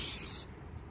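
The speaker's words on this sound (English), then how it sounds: "I'm going to run it across my fence here real quick just to see what kind of spray pattern I get" A Hyperdip aerosol spray can sprays across a fence, giving a loud, close, continuous hiss that cuts off abruptly after a short burst, leaving quiet room noise.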